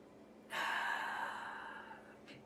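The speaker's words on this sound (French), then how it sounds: "Et prenez une première respiration, on arrête, on exhale." A single deep, audible breath during guided meditation, one long airy rush that starts abruptly and slowly fades, close and soft in a quiet room.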